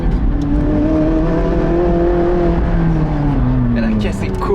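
A McLaren 675LT Spider on semi-slick tyres drones loudly from close by, its engine note holding steady and then sliding lower in pitch as it rolls through the rev range.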